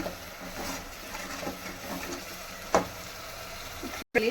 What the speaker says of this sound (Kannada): ಅಚ್ಚಕಾರ, ಚೆನ್ನಾಗಿ ಮಸಾಲೆ ಫ್ರೈ ಆಗಬೇಕು